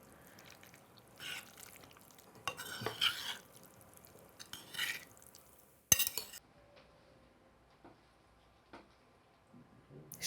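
A spoon gently folds mayonnaise and capers into a poached fish mixture, giving soft, wet stirring and scraping with occasional light clinks of utensil on dish, quiet and close with pauses between strokes.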